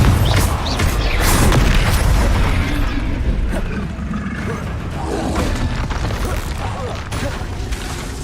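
Spell explosions from the Confringo fire spell in the Hogwarts Legacy video game, with loud booming bursts over continuous dense battle noise and heavy low rumble, the effects running throughout.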